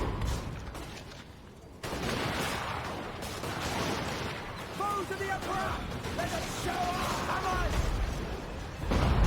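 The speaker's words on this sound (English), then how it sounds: "Meanwhile, we have more exchange from these rifles." Warhammer video game battle noise with bursts of rifle fire and heavy booming cannon shots, over a dense rumbling backdrop, while a voice talks over it.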